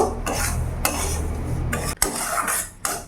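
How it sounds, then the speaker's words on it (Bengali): Cashews and raisins with cardamom powder are stirred and fried in a pan, a metal spoon scraping and clinking against it in steady strokes with brief pauses, close and clear with no talk. "এবার ভালো করে আমি এটাকে মিশিয়ে নেব, কিছুক্ষণ এইভাবে একটু ভেজে নেব"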